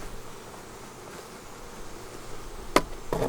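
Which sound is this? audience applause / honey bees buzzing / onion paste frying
honey bees buzzing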